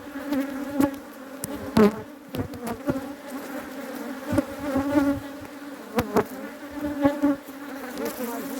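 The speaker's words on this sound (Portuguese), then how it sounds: "Vamos adicionar aqui, ó, esse enxame para a rainha fazer postura" A honeybee swarm being added to a wooden hive box, a dense close buzzing hum that pulses in strength, with sharper bursts as individual bees pass near and no voices.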